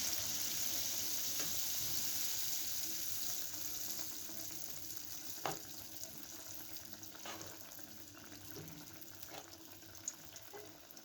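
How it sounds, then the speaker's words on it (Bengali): Batter-dipped potato chops fry in hot oil with a fairly quiet, steady sizzle that eases a little. A few sharp crackles and pops stand out as pieces go in, and no voices are heard. "এখন আমি একটা একটা করে নিয়ে ব্যাটারে ডুবিয়ে তেলে দিয়ে দেবো।"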